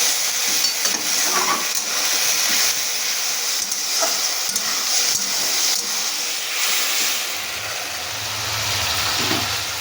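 Potatoes and ground spices sauté in hot oil with a loud, continuous sizzling hiss and bursts of crackle, broken now and then by the scrape and clatter of stirring.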